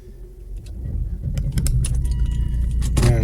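Keys jangle near the microphone in short metallic bursts over the steady hum of a car engine at night, growing louder toward the end.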